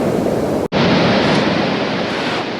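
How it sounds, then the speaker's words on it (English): Sea waves roll in onto the shingle of Chesil Beach at West Bexington on a storm-damaged shore, a loud, steady roar of surf and wash close by, with wind buffeting the microphone and a brief dropout. "there are some rollers coming in"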